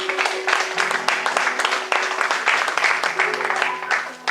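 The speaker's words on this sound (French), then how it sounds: "Est-ce qu'on peut acclamer la parole de Dieu?" A church congregation bursts into sustained applause for the word of God, dense clapping from many hands with some voices mixed in, tapering near the end.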